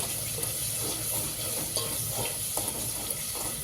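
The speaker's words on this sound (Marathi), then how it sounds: "आता मसाला छान असा परतून घेणार आहे मी" Masala with turmeric and salt is sautéed in a pan for a mutton rassa curry, with a constant close sizzle broken by a few soft stirring scrapes.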